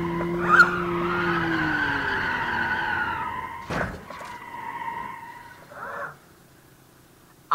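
A Skoda car in the BeamNG.drive video game skids with a long, loud tire squeal lasting several seconds. Sharp impact thuds break in, the squeal returns more faintly, and then the sound cuts off abruptly.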